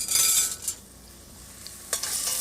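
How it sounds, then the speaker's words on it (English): A spoon stirs chopped onions and red peppers in a hot pan, giving bursts of scraping and sizzling that fade to a quieter simmer before picking up again, close and without talk. "stir those around till they sweat down a little bit and soften"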